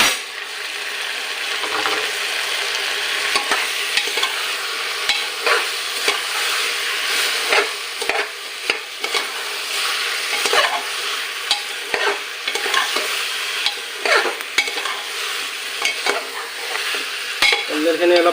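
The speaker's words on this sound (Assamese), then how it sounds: "কলডিলখিনি অলপ ভাজা হওক একেলগে।" Banana flower stirred and fried with broiler chicken in a cooker, a close sizzling hiss broken by frequent rhythmic scraping and clacking of the spoon against the pan, with no talking.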